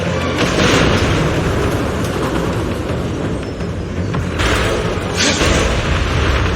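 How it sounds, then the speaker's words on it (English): Explosions in the video game Zenless Zone Zero: a dense, continuous rumbling roar of blasts with heavier booming bursts near the start and around the five-second mark, loud and sustained throughout. "Explosions are becoming more frequent."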